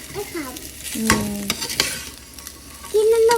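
A spatula scrapes and stirs Maggi noodles with mixed vegetables in a hot pan, with a brief sizzle and a few clattering strokes, close up, along with faint tonal background sounds.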